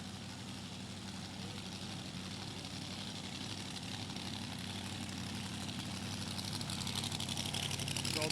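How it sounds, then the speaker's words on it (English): A Neal and Parks front-engine dragster with a 470 cubic inch blown Hemi idles in a steady, low, rumbling drone that swells slightly louder toward the end, heard at a distance at a hot rod reunion. "It's a Neal and Parks front engine car with a 470 cubic inch Hemi"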